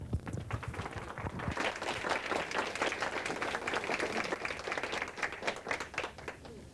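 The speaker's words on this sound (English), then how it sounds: "Thank you for that round of applause" An audience claps continuously, a dense, steady round of applause that starts scattered and quickly fills in, with no voices.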